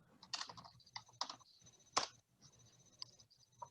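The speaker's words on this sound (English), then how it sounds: "You type in Connecticut." Keys on a computer keyboard typing in a password, a few quick scattered clicks close up in a quiet room with no talking.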